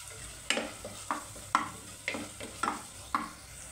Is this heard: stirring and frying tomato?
yes